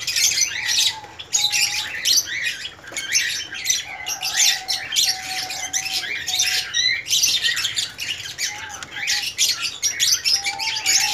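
Diamond doves in a breeding setup call with soft repeated coos, mixed with busy chirping and squawking from many other caged birds, a constant aviary chorus close by.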